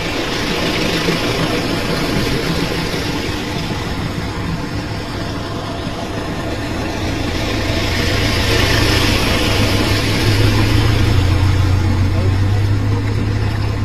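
A car engine drones at low speed as it drives through floodwater in Udaipur, Tripura, amid broad, rushing noise that swells slightly toward the end, with voices mixed in.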